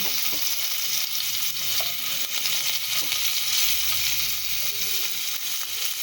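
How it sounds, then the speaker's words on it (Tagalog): Garlic sautés in a little oil in a pan, a steady, close sizzle and crackle that runs unbroken throughout, with occasional faint stirring and no talk. "Magisa-gisa na tayo sa pugita."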